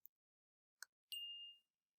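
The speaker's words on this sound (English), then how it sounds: "it gives you a little bell when you get something correct" A learning app plays a single bright bell chime after a correct answer, a clean ringing tone that sustains briefly and fades, preceded by a couple of faint clicks.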